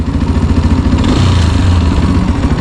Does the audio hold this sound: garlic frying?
no